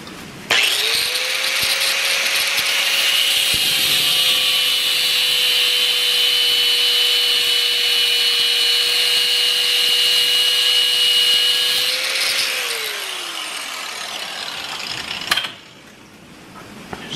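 A power tool cuts through a metal piece for a workbench camera stand, one long sustained high whine of about twelve seconds that spins down at the end, close and loud with no talking.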